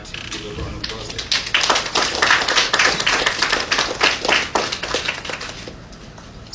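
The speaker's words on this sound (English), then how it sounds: "So I actually give a round of applause there." Applause at an official website launch event, a smaller group clapping with distinct individual claps that swell in the middle and taper off, with some voices present alongside.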